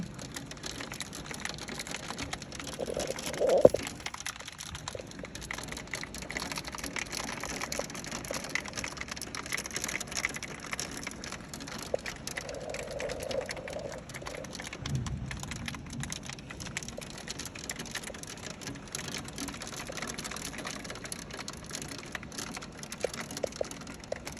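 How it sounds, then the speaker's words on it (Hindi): Hail falls in May in Oakville, Canada, a dense steady patter of small impacts on outdoor surfaces continuing throughout, with a few louder knocks standing out against the constant hiss. "ओले पड़े हैं।"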